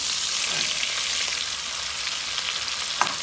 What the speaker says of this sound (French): On va mettre des oignons pour amortir le pétage d'huile.